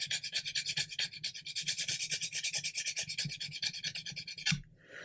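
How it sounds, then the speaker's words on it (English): A fingernail scratches back and forth across a brush-painted ICM paint layer on an unprimed surface, a close, rhythmic series of rapid rasping strokes that ends abruptly with one last scrape. "we're just going to give it a bit of a scratch with my fingernail"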